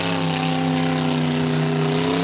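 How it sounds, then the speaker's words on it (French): A boat with a tired motor passes at a vintage hydroplane racing event, a loud, steady droning engine hum with strong tonal harmonics and slight wavering, close and continuous throughout. "Ah, une embarcation dont le moteur est un peu fatigué"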